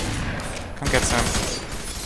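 Gunfire from the video game F.E.A.R. 3, a dense burst of rapid shots and booms running for about two seconds, loud and close under shouted voices.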